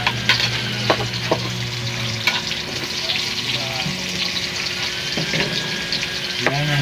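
Onions fry and get stirred in a pan while carbonara sauce is made, a loud constant sizzle with repeated spoon clinks and scrapes throughout.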